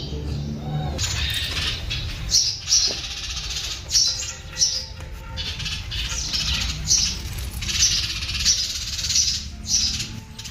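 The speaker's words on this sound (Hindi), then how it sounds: "उसमें चिड़िया ने जैसे 2-3 घोंसले बनाए थे, तो उसी में से आज ये 2-3 बच्चे निकले थे" Newly hatched baby birds, two or three chicks in a nest inside a homemade birdhouse, give thin, high-pitched cheeping in quick repeated bursts over a steady low background hum.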